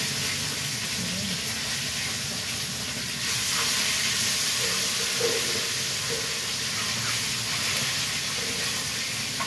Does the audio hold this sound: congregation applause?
no